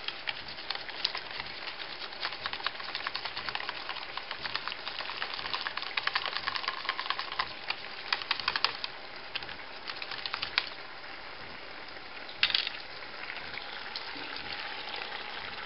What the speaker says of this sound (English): to the milk mixture, I'm going to add some flour. And I'm going to whisk until smooth